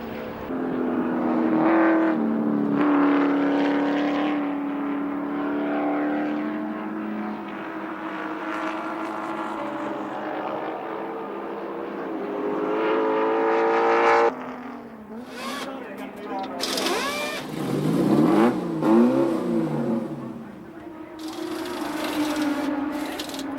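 Touring cars racing at Wanneroo circuit in 1986, engines droning and shifting pitch as cars pass, heard continuously beneath a commentator's steady talk.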